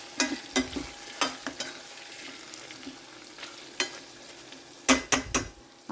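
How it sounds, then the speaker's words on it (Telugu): Potatoes are frying in oil in a pan. A soft, steady sizzle sits underneath while a spoon stirs and scrapes against the pan in irregular bursts, with a quick cluster of sharp scrapes near the end. The sound is close but fairly quiet. "ఆలు నూనెలో కొంచెం ఫ్రై అయితే మంచిగా మగ్గిపోతాయి"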